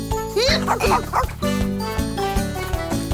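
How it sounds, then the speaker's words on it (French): A dog barks and yips several times over bright music with jingling sounds, in a lively cartoon-style mix. "Bon chien, Zim."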